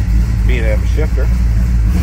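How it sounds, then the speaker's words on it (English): The engine of a 1964 Chevrolet C10 shortbox street rod runs loud and steady after a cold start, a deep rumble with someone talking over it. "That was a cold start"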